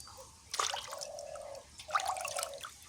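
Hilsa fish being rinsed in water by hand makes two short bursts of splashing and trickling, close and fairly quiet, separated by a brief pause, with no one speaking.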